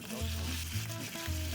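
Chopped meat frying in oil in a pan, a close, steady sizzle with a low hum underneath and faint clinks, brief and continuous.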